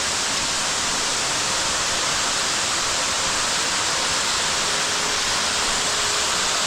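Large jungle waterfall in Bali roaring as a steady, dense broadband rush, loud and continuous throughout with no voices over it.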